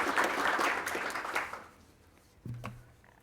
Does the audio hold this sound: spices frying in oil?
no